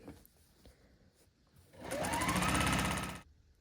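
A sewing machine stitches quilt rows without pins in a short burst of about a second and a half, a loud rapid mechanical whir that rises in pitch, after quiet handling sounds.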